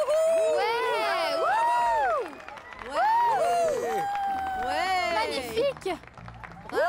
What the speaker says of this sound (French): Applaudissons les nouveaux mariés!